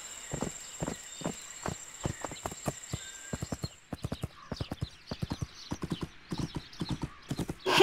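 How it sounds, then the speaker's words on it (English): A horse in a riding video game clip-clops in a steady walking rhythm, then breaks into a faster, denser run of hoofbeats, loud and close, with a neigh at the very end. "I should change to a gallop and give it a try."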